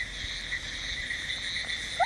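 Indian bullfrogs calling outdoors beside a yellow bullfrog, with a steady chorus of frogs and insects droning throughout and one brief, closer croak near the end.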